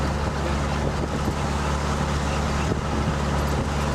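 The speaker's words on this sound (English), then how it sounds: "I just got the dune buggy out, take it for a little ride" A dune buggy drives along on a short ride near a barn, its engine giving a steady, loud rumble with constant road and wind noise throughout, no talking.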